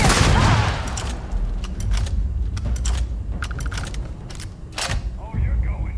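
Rapid bursts of gunfire crack out in the Starfield space game, sharp shots in irregular clusters amid combat noise, with voices talking over the action.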